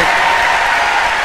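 Thunderous audience applause fills the whole stretch, a dense, steady wash of clapping with a faint crowd murmur beneath.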